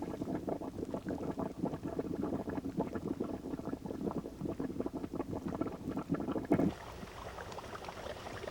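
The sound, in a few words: bubbling mud pot on a fumarole in Yellowstone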